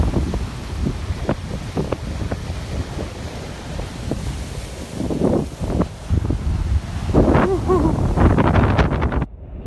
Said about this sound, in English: It's gusting to about 25-30 knots